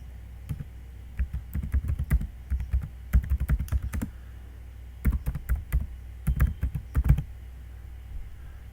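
Close, steady typing on a computer keyboard while working in AutoCAD, with bursts of clicky keystrokes and short pauses between them.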